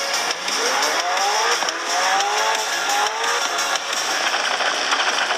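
Racing video game on a Samsung Galaxy Z Fold 2 phone, a car sliding on ice, played through loud phone speakers: a steady engine whine with rising revving tones and tire squeal, continuous throughout with no talking.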